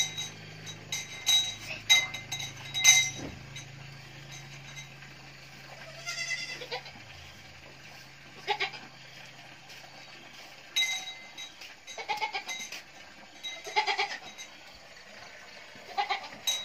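Goats bleat repeatedly at a mountain farm, several short, mid-distance calls spread across the recording with faint clinking between them.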